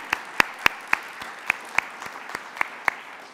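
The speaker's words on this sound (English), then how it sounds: "Big round of applause for them." Applause at an alumni awards ceremony comes across as sparse, distinct claps at a roughly steady pace, as if from only a few people in a quiet room.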